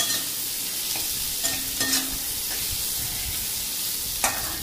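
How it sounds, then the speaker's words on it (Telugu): Onions fry in hot oil for a village-style drumstick curry, giving a steady, close sizzle throughout, with a few brief scrapes and clinks of a spoon stirring the pan. "ఇలా ఆయిల్ పెట్టి ఆనియన్స్ వేయించాలి."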